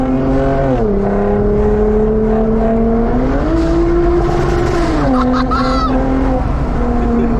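A loud 2008 Lexus IS250 V6 engine revs and drones steadily, its pitch climbing and dipping between gears, close and continuous throughout.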